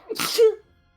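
A single sharp sneeze, close and loud, bursting out with a quick breathy rush and ending abruptly, followed by quiet.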